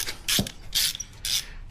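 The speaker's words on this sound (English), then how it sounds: "got an Allen key for the clamp here" An Allen key tightens an exhaust clamp while an S&S MK45 exhaust is fitted on a Harley Road Glide, giving three close, bright bursts of metallic clicking and scraping with brief pauses between turns.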